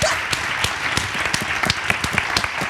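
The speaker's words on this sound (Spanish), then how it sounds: "Un aplauso para Andrés Llena" Audience applause for a guest during a lively interview event: a full room clapping hard and continuously, loud and close, with distinct sharp claps standing out from the dense wash.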